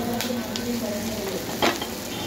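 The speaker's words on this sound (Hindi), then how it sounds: "यहाँ पे मैंने सारी सब्जी भी डाल दी है, इसे अच्छी तरह से मिक्स कर लेंगे हम" Mixed vegetables are stir-fried in a pan for egg noodles, with a constant close sizzle and stirring scrapes. A brief louder scrape or clatter comes near the end, and no one talks.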